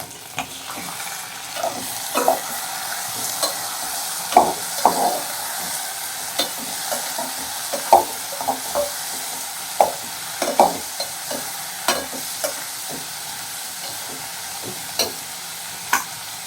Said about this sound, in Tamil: இப்போ தக்காளி போடுவோம், வெட்டி வச்ச தக்காளியை போடுவோம்